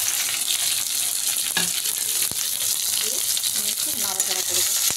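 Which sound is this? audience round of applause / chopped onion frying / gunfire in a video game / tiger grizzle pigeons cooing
chopped onion frying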